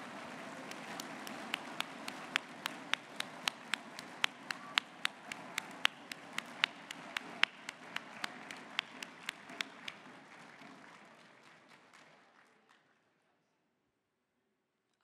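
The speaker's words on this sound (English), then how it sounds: "Let's have a round of applause for all of them as we get a group photo" Audience at the MATHCOUNTS National Competition countdown round gives a round of applause: clear, rhythmic individual claps stand out over a softer clapping bed, then fading out to near silence by the end.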